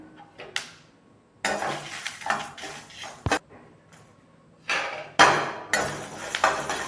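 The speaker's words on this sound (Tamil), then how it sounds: "கொள்ளுப்பருப்பு வறுக்கும் போது வெடிக்குங்க. பாருங்க, வெடிக்கிற சவுண்டு கேட்கும்." Horse gram dry-roasting in a pan crackles and pops in sharp, irregular bursts, with loud clustered snaps separated by brief quieter gaps, close and without voices.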